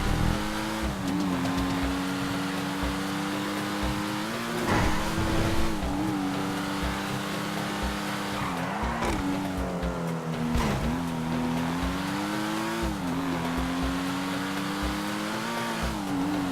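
A Benefactor Schlagen GT sports car in Grand Theft Auto 5 drives with a steady loud engine drone, its pitch rising and dipping through shifts and throttle changes, with no talk.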